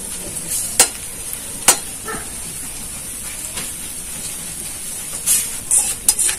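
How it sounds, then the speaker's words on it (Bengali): Flattened rice frying in hot oil, a continuous close sizzle and hiss broken by several sharp clatters of stirring, with a cluster of quick scraping knocks toward the end. "তেল গরম হয়ে গেছে, আমি চিড়েটা ভেজে নিচ্ছি।"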